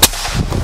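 One sharp shot from a PCP Predator double-tank air rifle pops at the very start, loud and close, then gives way to continuous noisy background rumble.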